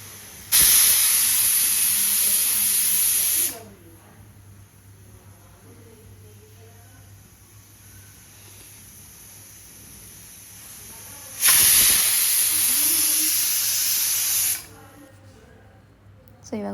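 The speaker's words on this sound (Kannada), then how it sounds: "ಕುಕ್ಕರ್ ಆರಿತ್ತು, 2 ವಿಸಲ್ ಕೂಗಿಸ್ದೆ ಅಷ್ಟೇ" Pressure cooker cooking fresh field-bean sambar releases two loud, sustained steam hisses of about three seconds each, separated by a long quieter stretch with faint background sounds.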